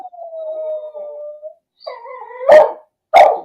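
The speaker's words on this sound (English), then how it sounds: "He's starting to howl now." A dog howls in a long, steady drawn-out tone, then gives a wavering whine and two sharp, loud barks close by.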